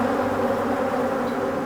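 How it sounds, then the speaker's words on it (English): Honey bees buzz steadily around hives at an Irish apiary, a dense, continuous drone close by with no pauses and no voices. "there's something nice about this constant bee buzz"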